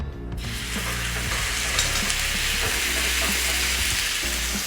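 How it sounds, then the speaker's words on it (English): Beef brisket sears in a smoking-hot pan, a loud, steady close-up sizzle and crackle that starts suddenly and continues throughout. "Now you can see the pan is smoking. Time to put in the brisket."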